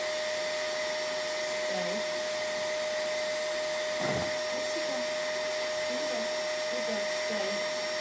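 Vacuum cleaner running steadily through the whole stretch in a home, a continuous loud drone with a brief louder swell midway, while a person gives a dog short spoken commands over it.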